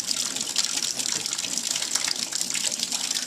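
Floodwater pours through a hole poked in a bathroom tile and out a drain, a steady close rushing gush filling the space continuously with no talk.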